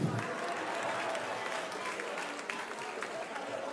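An audience at a comedy show claps in a steady, moderately dense patter that carries on throughout at fairly low level, with faint crowd murmur beneath.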